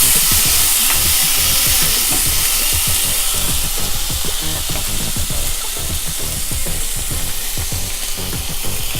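Beetroot, tomato, green chilli and curry leaves sauté loudly in a pan for a Kerala-style beetroot stir fry, giving a dense, continuous sizzle with rapid crackling and steady stirring throughout.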